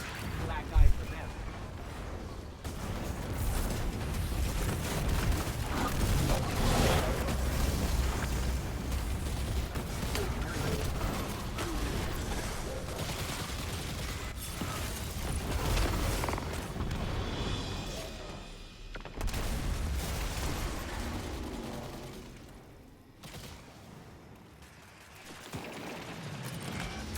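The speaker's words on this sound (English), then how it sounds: "I heard those explosions from here." Continuous rumbling video game explosions and mechanical roar in Destiny 2, dense and loud, with voices talking over the din throughout.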